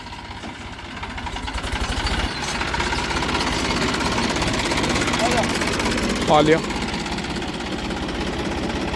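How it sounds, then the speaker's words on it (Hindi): A farm tractor engine idles nearby in a field, a constant low rumbling chug running under loud conversation. "ट्रैक्टर आ गया है।"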